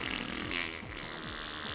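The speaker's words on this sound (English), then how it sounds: "Something really funny about the fucking fart noise" A comic fart noise from the video game Sonic Heroes, played against the game's busy music and effects, with a few short downward-bending blurts repeating through a brief stretch.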